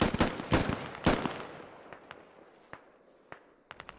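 Gunfire in the tactical shooter game Squad: a quick burst of sharp shots up front, then sparser, fainter cracks trailing off at a distance.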